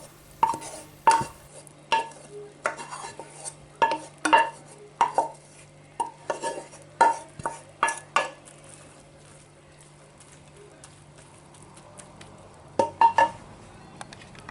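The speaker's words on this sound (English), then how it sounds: "And then I just dish it up on my favourite plate." Food is dished up onto a square plate with a utensil, making a series of light clinks and scrapes in an irregular rhythm, close by in a quiet room, pausing briefly before a final few taps.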